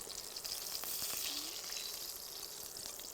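Aubergine fries in olive oil, giving a faint, continuous high hiss of sizzling with a few soft clicks from the pan, steady throughout.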